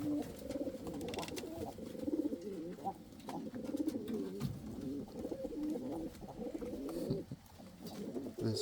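Indian fantail pigeons coo repeatedly at their nests, a low warbling chorus that carries on steadily and close by, with a few soft rustles and wing flutters.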